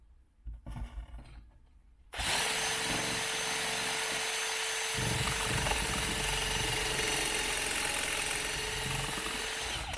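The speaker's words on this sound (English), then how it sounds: "I'm going to drill using this all the way through to the other side" A loud power drill grinds steadily and continuously through an exterior house wall after a brief quieter stretch with a few knocks, running close and unbroken to the end.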